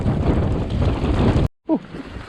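Strong wind buffets the microphone on a woodland trail at Cwmcarn, a loud continuous roar that cuts out briefly before a short voice sound and quieter gusting.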